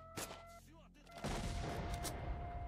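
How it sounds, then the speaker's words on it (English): Gunfire in S.T.A.L.K.E.R. shooting at a barrel at a military base: a sharp shot early, then a loud dense burst of blasts and crackling that swells and holds near, no talking. "Shoot the barrel, make it explode."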